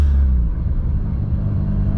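A Mazda FC RX-7 with a Pandem/Greddy widebody kit, its rotary engine giving a loud, close, deep idle rumble with a slight rev swell, steady for about two seconds with no talking.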